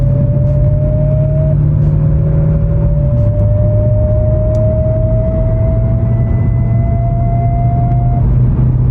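A Mercedes-Benz E55 AMG V8 with a gearbox fault, driving with a loud steady engine drone and rumble whose pitch climbs slowly and shifts down once partway through.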